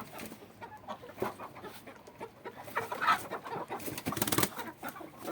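Chickens cluck in short, irregular bursts, a mixed flock of hens and a rooster close by, with wing flaps and scratching between calls on a rainy day.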